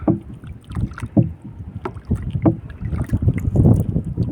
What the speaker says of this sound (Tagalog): Sagwan ulit tayo pabalik nito. Dahil medyo malakas-lakas yung agos.